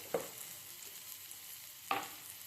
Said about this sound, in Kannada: ಚೆನ್ನಾಗಿ ಫ್ರೈ ಆಗಲಿ ಇದು ಆನಿಯನ್ನು.